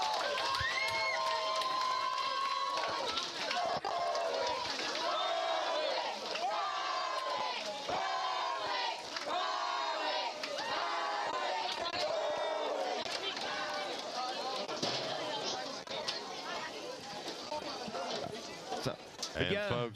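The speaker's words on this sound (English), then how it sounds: "you can hear the crowd" A dense crowd cheers and roars nonstop at a high school football game between the Berwick Panthers and the Grant Cougars, with a voice talking over the noise.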